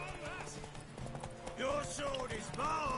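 A horse gallops in The Witcher video game, with quick rhythmic hoofbeats under in-game character dialogue and a player's voice.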